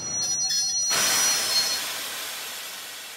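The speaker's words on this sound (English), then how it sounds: "After 3 days, the train stops." A train brakes to a halt, steady rolling rumble giving way to a loud hissing release of air that slowly fades, close and alone without voices.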